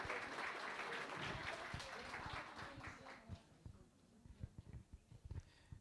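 Applause from an audience at a literary showcase event, fairly faint and thinning out into scattered individual claps, with a voice murmuring underneath.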